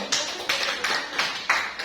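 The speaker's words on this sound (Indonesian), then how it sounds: "tepuk tangan pada Bunda Jorang" Applause for Bunda Jorang at a school positive-culture session, a steady wash of clapping with a few sharper bursts, moderately loud and fairly close.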